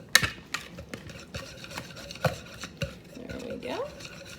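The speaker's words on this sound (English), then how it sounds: "take a whisk and mix this all together" A whisk is worked by hand through dog cake batter in a bowl, giving a run of quick scraping and clicking strokes at an irregular rhythm. The sound is close and moderately loud, with no talking.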